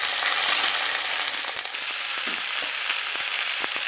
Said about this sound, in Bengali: এবারে কচু পাতাগুলো দিয়ে দেব, একটু দিয়ে নেড়ে নেব।